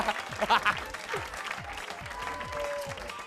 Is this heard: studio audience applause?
yes